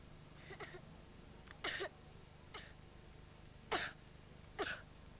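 Child coughing at night in a British cough medicine advert, several faint separate coughs or throat clearings spaced a second or so apart over a quiet background.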